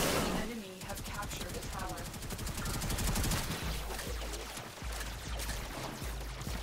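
Gunfire in the video game Warframe, a dense rapid stream of shots and impacts over busy game effects, with excited voices talking throughout.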